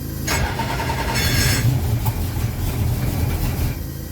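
A TVR 95 car engine cranks and catches near the listener, then runs roughly and unevenly as it struggles to hold an idle, with a loud steady low rumble throughout.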